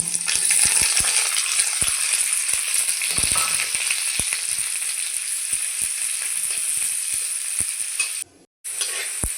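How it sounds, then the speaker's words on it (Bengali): Chopped onion and green chili frying with potatoes in a pan, a loud steady sizzle throughout, scattered sharp ticks and pops, and a brief dropout near the end. "এখানে একটু পেঁয়াজ আর কাঁচা লঙ্কা কুচি করে নিয়েছি ভেজে নেব"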